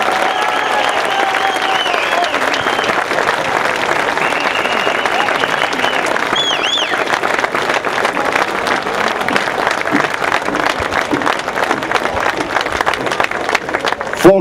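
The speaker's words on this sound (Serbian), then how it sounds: "Molim vas veliki aplauz za kulturno udruženje PETA." A concert audience at a folklore festival applauds a Greek cultural association's folk group with loud, sustained, dense clapping that fills the hall, and a voice briefly carries over the opening seconds.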